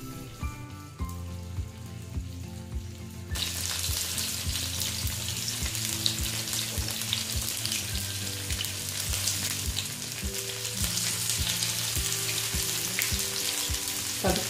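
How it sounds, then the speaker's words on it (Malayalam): Paneer tikka frying on a flat tawa, starting as a quieter hiss that swells into a loud, dense, continuous sizzle like heavy rain, close up and with no voices. "പനീർ ടിക്ക ഞാൻ 2 തരത്തിൽ ഫ്രൈ ചെയ്തെടുക്കുന്നുണ്ട്."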